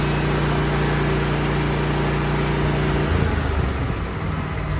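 Diesel engine of a Woodmizer LT15 sawmill running at a steady idle, a constant loud drone with low harmonic hum that roughens and shifts slightly after a few seconds as the throttle changes.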